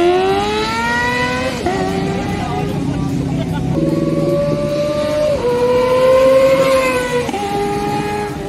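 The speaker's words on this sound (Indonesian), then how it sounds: "Perbedaan jumlah silinder ini pula yang membuat ZX25R bisa mengeluarkan suara yang lebih indah daripada pesaingnya." A Kawasaki ZX-25R 250cc motorcycle engine screams at high revs, climbing and dropping through several gear changes, loud and close throughout.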